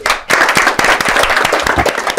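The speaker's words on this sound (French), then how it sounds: "on applaudit pour lui" A public audience applauds a guest at a gathering, with loud, close clapping that stays dense and vigorous throughout, marked by a few sharp, prominent hand claps.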